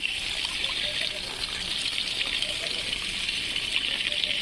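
Water pours steadily onto plants in a kitchen garden, a continuous splashing trickle that stays even and fairly close throughout.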